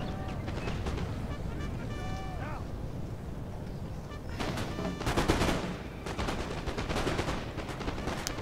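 Musket volleys crackle across a Napoleon: Total War battlefield, with dense, overlapping bursts of shots that grow loud and repeated in the second half, while someone talks over the quieter opening.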